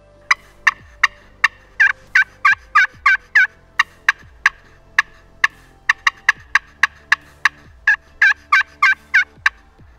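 A turkey pot call, its striker dragged across the calling surface, imitates wild turkey yelps and clucks: sharp, rapid notes in quick bursts, loud and close, repeating steadily.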